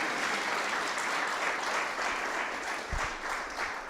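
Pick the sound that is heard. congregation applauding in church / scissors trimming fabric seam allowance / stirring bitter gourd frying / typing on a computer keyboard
congregation applauding in church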